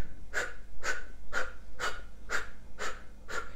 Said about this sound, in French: C'est la même chose que la respiration du feu par le nez,